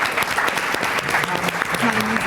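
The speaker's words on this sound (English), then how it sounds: "I just want to give another round of applause to the young people who just spoke." An audience at an education research town hall forum on gun violence bursts into loud, continuous applause for young speakers, with a voice briefly audible beneath the clapping near the end.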